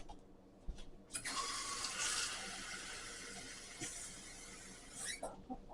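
Water runs from a kitchen tap for a few seconds while a cup is filled for a strawberry shortcake batter, a steady close hiss with a few clinks at start and end.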